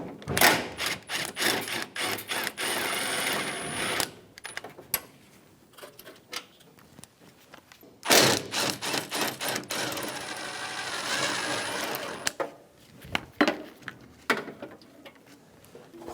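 On a 2005-2015 Toyota Tacoma, a ratchet clicks rapidly while loosening radiator bolts, with close bursts of fast ticking, pauses, and then more quick ratcheting.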